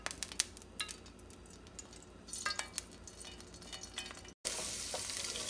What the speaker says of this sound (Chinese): 锅加热以后，放上两勺的食用油